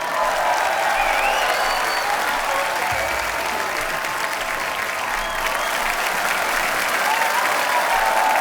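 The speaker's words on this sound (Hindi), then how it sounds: "जोरदार तालियां" A studio audience on The Kapil Sharma Show claps loudly and continuously, a dense steady wash of applause from a large crowd with no pauses.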